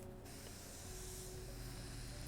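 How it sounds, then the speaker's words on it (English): A continuous airy hiss of a paint spray gun spraying metallic paint runs steadily throughout over a low mechanical hum, with no talking. "if you're spraying metallics with it, as you see, it does fine"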